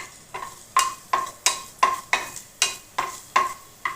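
Ginger and garlic stirred in hot oil, about ten crisp, evenly spaced scraping strokes of a spoon against the pan over a soft sizzle, close and clear.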